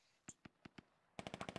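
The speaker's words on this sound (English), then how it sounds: "Oh, and there's gunfire." Gunfire in the Squad military shooter game: a few spaced single shots followed by a rapid automatic burst of about six rounds, sharp and fairly faint against quiet background.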